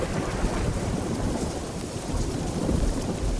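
Steady rain pours with a low rumble of thunder beneath it, a dense, even wash of noise that continues throughout, with no voices.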